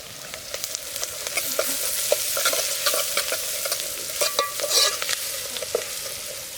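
Green chillies, onions, cumin and turmeric sizzle steadily in a pan over a village cooking fire, with repeated scraping stirs rising over the continuous frying hiss at close range.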